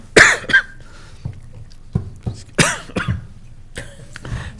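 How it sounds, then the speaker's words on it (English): A person getting over a cold coughs repeatedly in a quiet council meeting room, several sharp, close bursts spread across the moment with brief gaps and a throat-clearing between them. "so when I go to talk, the cough comes out."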